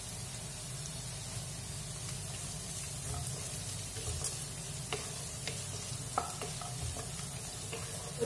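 Chicken fried rice stir-fried in a pan with salt and chicken, giving a steady sizzle and frying hiss with scattered scraping stirs and small ticks throughout, fairly close with no talk.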